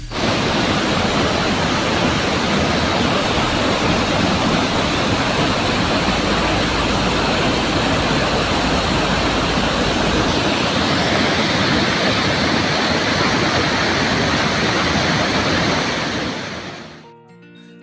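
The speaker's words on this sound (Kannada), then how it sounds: "ಉತ್ತಮ ಮಳೆ ಬೋರ್ಗರೆದ ಕಪಿಲತೀರ್ಥ ಜಲಪಾತ" Kapilatirtha waterfall roaring after good rain near Yelburga and Kushtagi taluks, a steady, loud, broadband rush of falling water that holds unbroken for about sixteen seconds before fading out abruptly.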